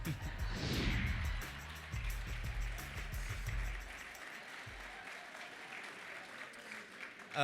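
Applause from a bowling convention audience at an annual meeting rises under a low musical tone early on, then carries on alone as a steady, moderately distant clapping crowd.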